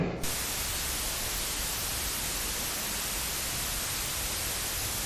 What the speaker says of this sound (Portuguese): E por fim, temos esse formato ruído aqui, que na verdade é um chiado.